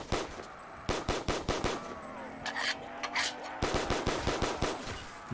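Rapid bursts of gunfire from Black Ops 3 custom zombies on a Pirates of the Caribbean map, sharp repeated shots in irregular volleys with brief pauses, loud and close over game ambience.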